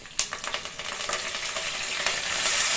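Onions, curry leaves and green chillies sizzle and crackle in hot oil for egg rice, a steady bright frying hiss with occasional stirring clicks close by, growing slightly louder toward the end.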